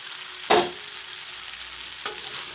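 Fried bhindi and potatoes stirred with masala in a pan, a steady close sizzle with two distinct scraping stirs of a spoon, no talk.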